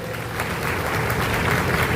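An audience at a political speech in Chhota Udaipur breaking into applause, a dense, continuous wash of clapping from a crowd, loud and steady throughout.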